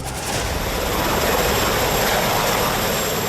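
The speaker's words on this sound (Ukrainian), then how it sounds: "Гелікоптер Трампа приземляється просто у приватному саду на території Вінздорського замку." A presidential helicopter lands in the private garden of Windsor Castle, its engine and rotor making a loud, steady roar that continues throughout with no talk over it.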